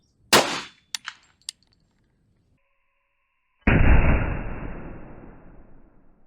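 KRISS Vector firing Speer Gold Dot rounds into a gel block outdoors, with several sharp, loud shots and a clang early on, then a louder blast that fades over a few seconds.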